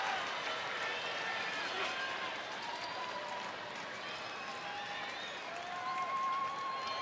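A baseball stadium crowd cheers late in a Rangers game in Texas, a broad, steady murmur and roar of many voices at a distance, with faint whistles and a commentator talking over it.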